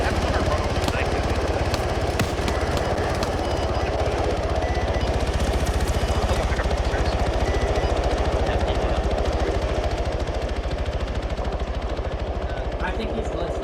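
Helicopter in the Arma 3 video game, a steady loud rotor chop and engine drone running throughout, with bursts of gunfire and players talking over it.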